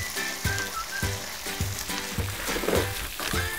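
Vegetables with garlic stir-fried in a wok at a campsite: a steady, quiet sizzle broken by regular scraping spatula strokes about twice a second, with no talking.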